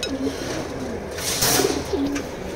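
Pigeons kept as pedigreed breeding pairs coo softly, a few low murmuring calls rising and falling over steady background noise, with no talk.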